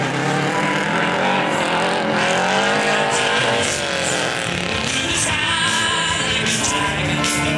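Subaru car in a precision stunt driving show in a mall parking lot, engine revving loudly and steadily with shifting pitch throughout, tires faintly squealing amid the continuous roar.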